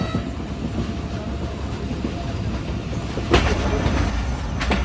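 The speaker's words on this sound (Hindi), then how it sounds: "कुछ इस तरह की स्थिति में ट्रेन हमारी आगे बढ़ रही है" The Sukkur Express passenger train rolls along the rails, a steady rumble with wheels clattering underneath, heard from on board with a couple of sharper knocks near the end.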